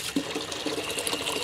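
Common dish soap is squirted into a gallon of water, producing a brief burst of close, bubbly liquid splashing and trickling.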